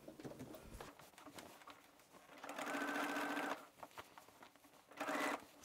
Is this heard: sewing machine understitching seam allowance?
yes